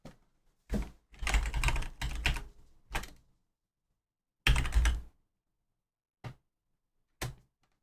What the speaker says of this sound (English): when I click my keyboard, it's really bad